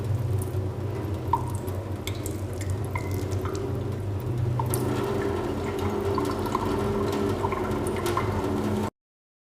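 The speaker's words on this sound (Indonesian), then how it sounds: "Setelah 5 menit kita cuci di bawah air mengalir" Running water rinses a stained microscope slide in a lab, a steady trickling flow with small drips and splashes, continuous and close, ending abruptly.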